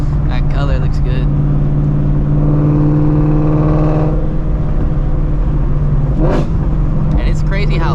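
Ford Shelby GT350 engine roaring loudly as the car accelerates on the road, a strong low drone swelling then settling, with someone speaking over it and brief noises near the end.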